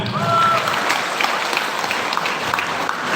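Even applause from an audience at a university community-service briefing in Palembang, a continuous wash of clapping with a brief whistle-like tone early on.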